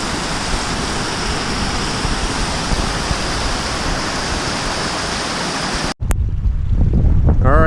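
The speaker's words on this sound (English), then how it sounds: "Got a pretty good sized cascade coming down the hill there." Mountain stream cascade rushing down a hillside at a stream crossing, a loud, dense, steady roar of water with wind buffeting the microphone, cut abruptly near the end.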